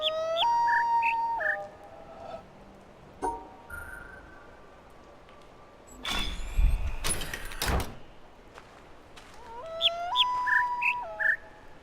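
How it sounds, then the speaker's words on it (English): A bamboo-flute-like bird call in the jungle of the video game The Witness plays a short phrase of stepped pitched notes, heard once, then again after a break with some rustling and clattering in between. "I hear 5 notes in that bamboo flute bird call."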